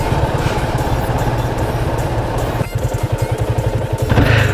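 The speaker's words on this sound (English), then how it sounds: "Damn good engine braking." A 2017 Yamaha FZ25 motorcycle engine runs steadily, then settles into a pulsing, throbbing rhythm as it slows under engine braking, rising again near the end.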